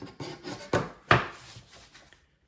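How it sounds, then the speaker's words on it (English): Scratchy abrasive strokes rasp against the wood of a Johnson 524 level under restoration in irregular, gentle back-and-forth passes, a couple of them louder, fading out near the end. "So for sanding, we're not going to get too aggressive."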